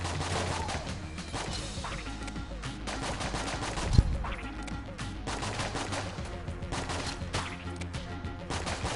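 Rapid gunfire from a big gun in the video game Enter the Gungeon, a dense stream of shots and crashing impacts with one sharper blast partway through, steady and moderately loud throughout.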